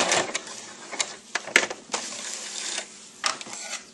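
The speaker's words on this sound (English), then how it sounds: "then we'll stitch, and then we'll back stitch" A sewing machine stitching and then back stitching a ribbon bandana apron, with short runs of rapid mechanical whirring broken by clicks and brief pauses, close and fairly loud.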